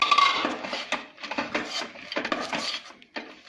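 A spoon scrapes and clinks around a pan as peanuts are stirred into cooked jaggery, an irregular run of close gritty scrapes and knocks, alone without speech.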